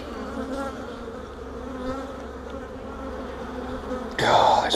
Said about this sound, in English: God, it's full of bees.